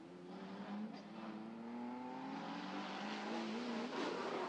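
Drift cars in a Pro-Am drift round rev and scream through the run, a continuous rising engine whine that grows louder toward the end, with a commentator talking over it.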